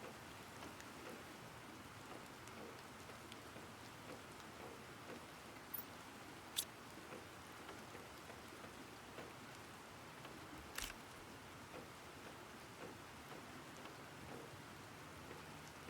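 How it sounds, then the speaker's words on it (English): Rain playing in a planet-terraforming video game, a faint, steady patter and hiss that continues throughout with a few brief sharp ticks, quiet and heard alone. "The only sound I'm listening to right now is the rain that's playing in the game."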